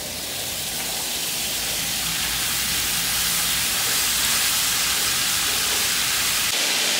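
Ground beef hits a hot pot and sizzles with a loud, continuous hissing crackle close by, cutting off abruptly near the end.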